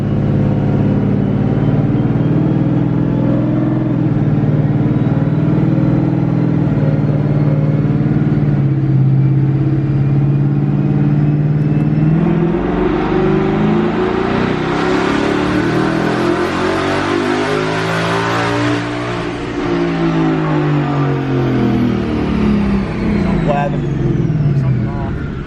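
A twin-turbo 2020 Mustang GT runs on a dyno, its engine droning steadily and then revving hard through a rising, falling sweep, loud and close, with voices in the background.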